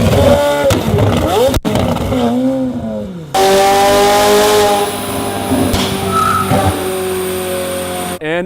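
A McLaren 765LT supercar revs hard in loud, rising and falling sweeps, then holds a high, sustained engine whine, very close with abrupt cuts between bursts.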